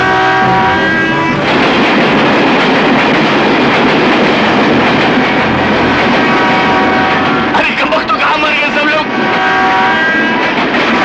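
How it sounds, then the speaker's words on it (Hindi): A train approaches with a loud, continuous rumbling roar and some tonal whine, sustained throughout and rising slightly, with voices and other noise mixed in. "जल्दी करो, ट्रेन आ रही है।"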